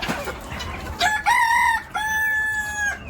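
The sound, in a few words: farm chickens, rooster crowing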